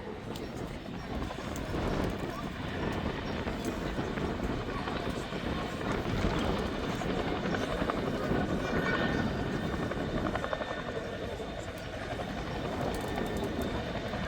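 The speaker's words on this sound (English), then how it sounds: "It's one of the only helicopters in the world that can reverse on 2 wheels." RAF Chinook HC.6 helicopter reversing on two wheels at an air show, a continuous heavy rotor throb and turbine roar heard from a distance, holding steady throughout with announcer talk over it.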